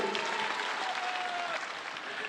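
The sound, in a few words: audience applause for party leaders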